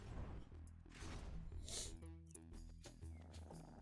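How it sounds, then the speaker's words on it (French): Purring in the video game Hades, short and low, mixed with game effects, whooshes and music for a few seconds. "Est-ce que ça ronronne comme un chaton?"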